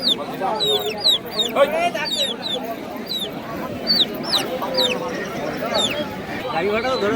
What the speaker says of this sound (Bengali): আর মুরগির বাচ্চা রয়েছে।